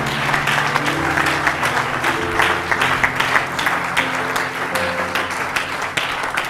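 A church congregation applauds to acclaim Jesus, dense sustained clapping from many hands filling the room, with sustained organ or keyboard tones underneath and a faint voice somewhere in the mix.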